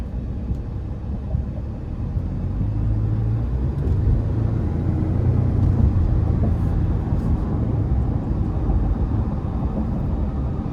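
A 2023 Ford Expedition Max XLT with the 3.5-liter twin-turbo engine pulls away in sport mode, heard from inside as a steady low rumble that swells and holds through the run, with no talking.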